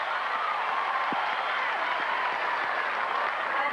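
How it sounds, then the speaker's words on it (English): Crowd at the 1997 Family Circle Cup women's tennis final at Hilton Head, Hingis against Seles, applauding and cheering in a steady, loud, continuous wash of clapping. "Crowd really getting into it."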